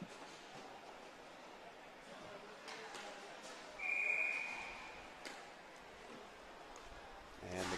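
A referee's whistle stopping play at a men's roller hockey finals game, one short shrill blast rising over a faint, distant arena murmur with scattered knocks.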